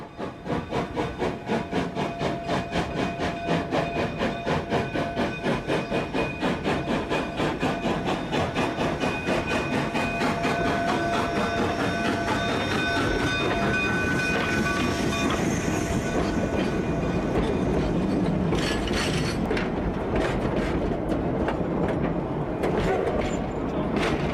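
A Rio Grande narrow gauge train runs past near Pagosa Junction with steady, rapid clickety-clack of wheels on rail joints, hissing and a rising rumble toward the end, loud and continuous.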